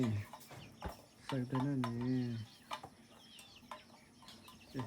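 A hen clucks and calls in a drawn-out, wavering cry close by, followed by scattered softer clucks and a few voices.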